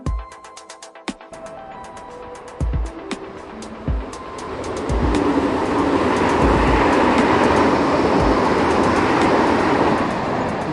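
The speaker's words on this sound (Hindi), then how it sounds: "ये ठाठे मारती हुई ट्रेन बहुत जल्दी हमारी मंजिल मकसूद तक पहुंच गई" Lahore Orange Line metro train running underground, a few clunks and clicks at first, then a steady loud rushing rumble of the carriage at speed with no voices.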